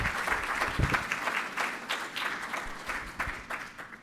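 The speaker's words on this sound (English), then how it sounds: "Let's give another round of applause to Jennifer and our eviction diversion panel." An audience at a legal-services forum on access to justice applauds a panel, many hands clapping steadily with distinct close claps popping through and tapering slightly toward the end.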